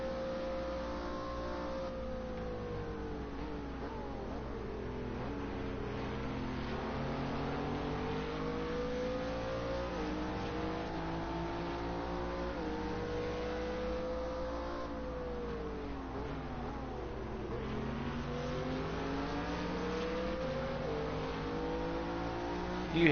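Race car engine in the video game Project Cars 2, a steady mid-pitched roar that rises and falls with repeated revving and gear shifts through a late stage of a race, loud and continuous with no talk.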